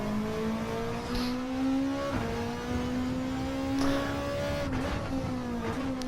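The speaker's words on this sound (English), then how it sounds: "holding the lower gears just to rev the engine out" A race car engine revving high in the low gears at Interlagos in a racing video game, a loud sustained whine that climbs steadily, with brief dips at shifts around two, four and five seconds, alone without talk.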